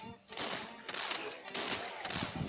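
Rapid bursts of gunfire in the video game Swamp Attack rattle in close succession, loud and dense with short pauses between volleys.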